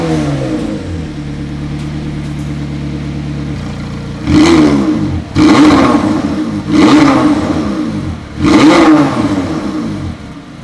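A McLaren 720S Performance idles with a steady low hum, then four loud, sharp engine revs burst out one after another, each rising and falling quickly, close and with no talking.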